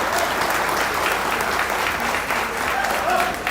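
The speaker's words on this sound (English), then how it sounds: "Let's give them a nice round of applause." A crowd at a swine show applauds the exhibitors, loud, steady clapping filling the space with faint voices mixed in, continuing for a few seconds.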